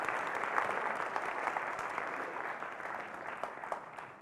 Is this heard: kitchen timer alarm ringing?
no